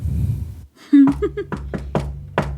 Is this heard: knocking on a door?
yes